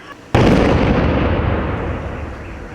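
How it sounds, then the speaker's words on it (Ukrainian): A powerful explosion booms suddenly during an emergency training drill at a school building in Irpin, Ukraine, after a brief quiet, its deep roar rolling and slowly fading over a couple of seconds. "Цей потужний вибух пролунав сьогодні в Ірпені."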